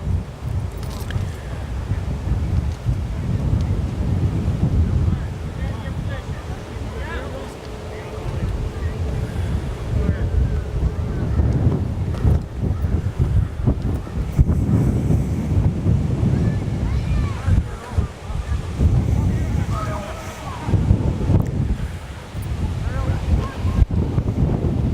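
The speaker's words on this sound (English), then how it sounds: "Too much wind." Strong wind gusts across an outdoor youth baseball tournament game, buffeting the microphone with a heavy, rumbling roar that swells and eases throughout, with faint voices underneath.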